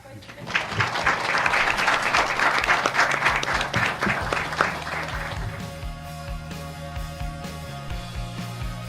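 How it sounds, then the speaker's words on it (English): Audience applause closing a Public Relations Society of America Delaware chapter presentation on social media, a loud dense burst of clapping that tapers off into faint scattered claps over a low background hum. "Can we give a round of applause for"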